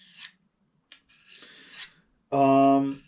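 Knife blade drawn across a sharpening stone under firm pressure to take off metal, giving a few short raspy scraping strokes separated by pauses, close and fairly quiet, ending with a louder, more ringing stroke.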